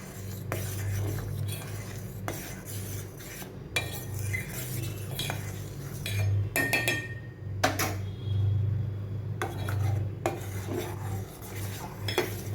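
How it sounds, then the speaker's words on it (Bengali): A spoon stirring potato kheer in a pot, with repeated metallic clinks and scrapes against the pot sides in an uneven rhythm, close and fairly loud, and no talking. "এটাকে খুব ভালো করে মিশিয়ে দেব।"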